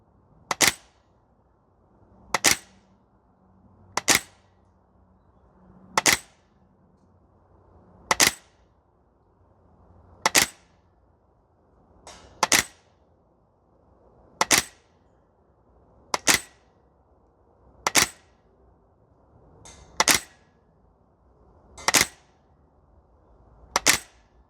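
A Maruyama SCP-9 PDW gas blowback airsoft submachine gun fires twelve sharp, evenly spaced single shots at an outdoor range. Each crisp crack has a brief mechanical clack, and the shots come roughly every two seconds against quiet background noise.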